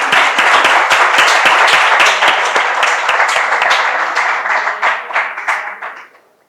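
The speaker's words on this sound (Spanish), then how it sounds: "te damos un fuerte aplauso" An audience in a lecture setting claps, loud and dense at first, then gradually thinning into scattered claps before fading out.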